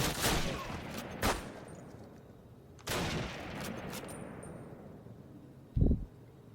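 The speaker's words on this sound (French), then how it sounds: "Putain, je tire à côté." Bursts of gunfire in the video game Call of Duty (2003), a few loud volleys at the start and again near the middle, with a short thump near the end and a faint background hiss.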